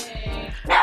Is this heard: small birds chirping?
no